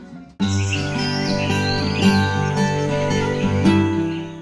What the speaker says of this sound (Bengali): সকালবেলায় ঘুম ভাঙলো পাখির মিষ্টি ডাকে